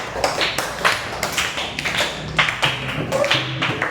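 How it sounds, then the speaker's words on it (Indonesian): A classroom applauds a student group, producing a quick, uneven run of close, sharp claps and taps that carries on steadily for several seconds. "tepuk tangan untuk kelompok kita"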